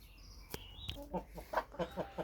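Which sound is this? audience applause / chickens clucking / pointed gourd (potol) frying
chickens clucking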